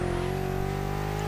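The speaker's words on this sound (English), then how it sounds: "I can hear like another car like driving right behind me" Engine of a car driving close behind in The Crew Motorfest, a steady humming drone with a slowly rising whine, near and constant with no voices.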